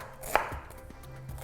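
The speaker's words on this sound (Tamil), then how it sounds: "வெங்காயத்தை கொஞ்சம் நைஸாக வெட்டிக்கலாம்" A knife chopping onion finely on a board in a home kitchen, a few light crisp taps with one sharper knock, close and fairly quiet against a low room hum.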